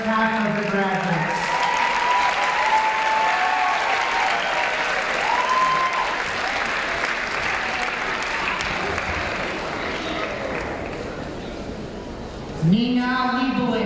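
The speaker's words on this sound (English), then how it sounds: "A round of applause for our first half of the graduates." A crowd at a high school graduation ceremony claps for the graduates of the Class of 2013, a loud, steady wash of applause lasting over ten seconds, with a voice speaking briefly at the start and again as it fades.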